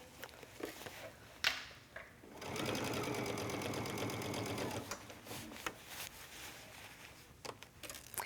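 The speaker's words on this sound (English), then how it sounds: "I'm going to stitch this all the way around" A sewing machine stitching a sleeve lining, running in a steady fast whirring burst of about two and a half seconds close up, framed by handling taps and fabric rustling before and after.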